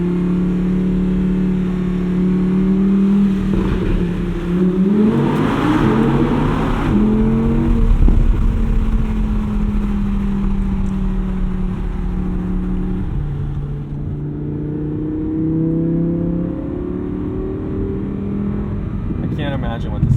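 Car engine revving hard through a short tunnel with the windows down, with unnecessary downshifts; loud, sustained engine drone rising and falling in pitch, echoing close around the cabin.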